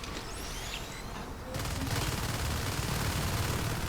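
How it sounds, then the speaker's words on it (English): Gunfire in the sci-fi shooter Natural Selection 2 rattles steadily as a marine fires at an alien fade, a dense continuous burst that grows louder midway and holds to the end. "Got shot by a lurk a little bit there and started shooting at an enemy fade."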